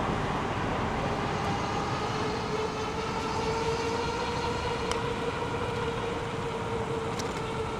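A train in downtown Houston rumbles as a steady, even wash of noise with a low hum and a faint whine running through it, continuous and moderately loud from start to finish.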